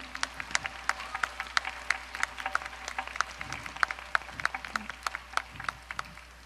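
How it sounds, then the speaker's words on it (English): An audience at a Bharatanatyam arangetram applauds the young musicians, scattered sharp claps in a light, fairly distant patter with faint voices underneath. "please give them a big applause"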